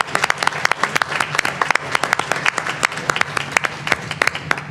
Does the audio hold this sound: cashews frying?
no